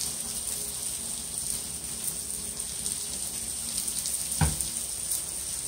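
Thin slices of Steak-ums sear in a pan with a steady, hissing sizzle that holds at an even level, broken by one brief knock near the end, with nobody talking.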